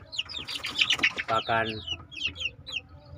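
One-month-old chicks in a breeding pen give quick, high peeps and short clucks, several overlapping calls close by in irregular bursts, with faint background noise.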